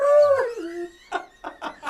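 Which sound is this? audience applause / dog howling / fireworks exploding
dog howling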